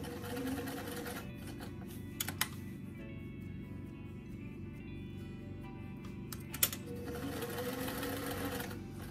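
A sewing machine stitches the sleeve of a fuzzy doll coat onto its lining, a close, steady whirring hum with a couple of brief clicks partway through.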